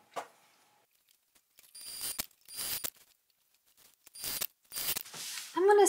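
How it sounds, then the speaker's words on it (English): A sewing machine basts straps onto a tote bag panel in several short mechanical bursts of stitching, each a second or less, separated by quiet pauses, with a brief whirring at the end. "So now I'm just going to baste each strap into place on my main panel."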